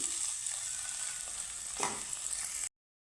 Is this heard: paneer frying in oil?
yes